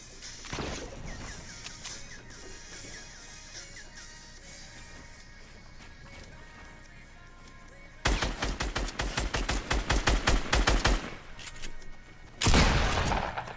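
Rapid bursts of SCAR assault rifle fire in a video game battle, loud and close, cracking off in a long run of quick shots and then a shorter burst, with a softer earlier shot and some background clatter.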